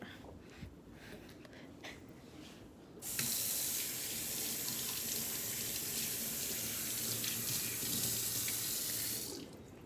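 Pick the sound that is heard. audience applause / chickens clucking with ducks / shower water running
shower water running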